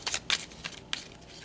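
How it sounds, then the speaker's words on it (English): Tarot cards shuffled by hand in a few quick riffling bursts, crisp papery flutters with short pauses between them, close and fairly quiet with no talking. "It's just too much for one shuffle."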